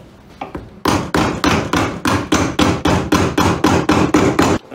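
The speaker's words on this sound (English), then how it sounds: "where's my hammer?" A hammer strikes a heel being fitted onto a shoe at a shoe repair bench, a rapid, steady run of about a dozen loud, close, sharp blows.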